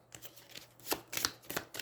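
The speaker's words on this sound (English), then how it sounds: "Shuffle your deck." A deck of cards is riffled and shuffled during a deck-building card game, with crisp bursts of rapid flutter in several close, distinct passes.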